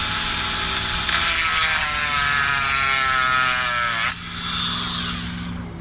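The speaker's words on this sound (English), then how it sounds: "I don't want to drill it too much, but you know, just enough so it's a notch." A power drill whines against metal for a few seconds, drilling a notch while installing greasable U-joints on a Suzuki Samurai, pitch rising under load, then stops and briefly spins down.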